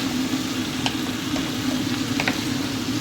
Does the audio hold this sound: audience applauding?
no